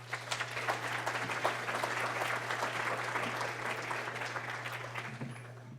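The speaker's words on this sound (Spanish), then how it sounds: "Un aplauso, por favor." An audience at an evening forum on social enterprises in Costa Rica claps steadily, a dense moderately loud patter of applause lasting several seconds over a faint constant hum.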